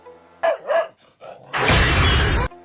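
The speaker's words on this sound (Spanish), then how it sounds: "su perro Lucky ladra desesperado hacia un espejo" A dog in the Thai horror film Alone (2007) barks desperately at a mirror: a few sharp whining barks, then a loud, harsh burst of noisy sound lasting about a second, close and dominant.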